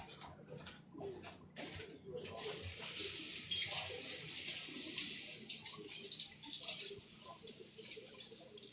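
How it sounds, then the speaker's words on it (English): Chive flowers being rinsed under a running tap, with a steady splashing stream that begins after a few brief knocks and handling sounds, close and moderately loud, with faint birdsong in the background. "I'm gonna give it a rinse"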